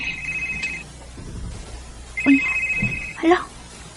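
A mobile phone rings with an incoming call, a steady electronic ringtone tone repeating in two bursts over quiet background, with a voice briefly speaking between the rings.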